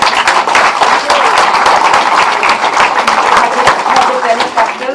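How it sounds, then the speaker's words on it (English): At a Green Valley Democrats program, the audience claps in a loud, crackling burst of hands, with a voice talking over part of it. "give them a round of applause"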